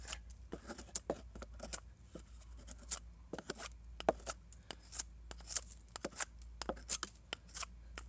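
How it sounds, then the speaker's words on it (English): A clone of the Emerson CQC7V folding knife shaves a piece of regular wood in repeated short, scraping strokes, quiet and close, each cut a brief dry rasp in an irregular rhythm. "Here's a piece of regular wood. Get a little cutting on it."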